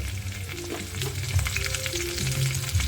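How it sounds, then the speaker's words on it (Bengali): Chopped tomatoes sizzle in a pan with fried fish pushed aside to make room, for a catla fish curry with cauliflower; a steady close frying hiss runs throughout with occasional stirring scrapes. "টমেটো কুচিগুলো দিয়ে একটু হালকা করে ভেজে নেব"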